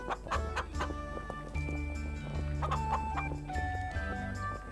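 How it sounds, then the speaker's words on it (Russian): A hen in the video game Lost in Bardo clucks repeatedly in short, close, clear bursts over a steady synthetic background tone, with no talking. "Курица сидит на яйце и, судя по всему, никуда уходить не собирается."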